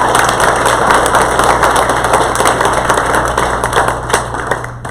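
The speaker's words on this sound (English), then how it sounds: "All those in favor, stand and cheer Mr." Convention crowd at a Libertarian Party of Indiana annual meeting cheering and applauding continuously, a dense wash of clapping and voices with a steady low hum underneath, fading slightly toward the end.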